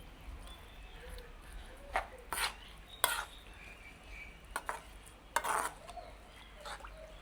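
A spoon stirs curry powder into a bitter gourd curry in a pot, making several soft scraping and clinking strokes over a quiet background.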